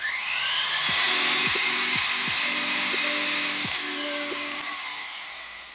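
A power hone wheel spins while a graver is sharpened on it, giving a steady high whir with a series of brief scraping touches in the lower range, close by and with no talk.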